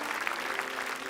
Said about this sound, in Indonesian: Itu Pak Denny, tepuk tangan.